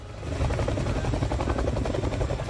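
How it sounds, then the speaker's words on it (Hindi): A US Air Force fighter helicopter hovers over snowy peaks, its rotor producing a loud, steady, rapid low thumping chop with continuous engine roar throughout. "बर्फ की चोटियों पर मंडराने लगे थे अमेरिकी एयरफोर्स के फाइटर हेलीकॉप्टर।"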